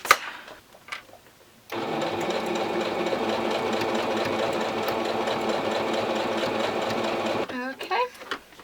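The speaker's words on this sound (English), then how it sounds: "I'm just going to take this over to the machine now and just sew all around this U here." A domestic sewing machine runs steadily for several seconds, stitching around a U-shaped handbag pocket along a quarter-inch seam, with brief handling noises before and after and no talk over it.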